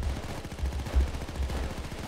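Rapid automatic gunfire from a weapon in Payday 2, a fast, steady burst of sharp shots at moderate loudness with no pauses, heard alone without talk.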